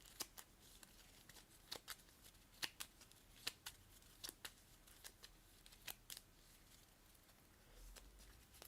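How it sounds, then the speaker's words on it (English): Frosthaven card decks are shuffled close up at a tabletop, producing faint papery riffles and sharp repeated snaps at an irregular pace, with no voices. "All these guys have to get their decks shuffled."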